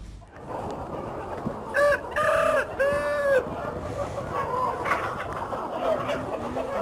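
Chickens at a large poultry-raising commune in Hai Duong province, Vietnam, cluck steadily in a busy chorus while roosters crow loudly twice near the start, with further calls scattered throughout.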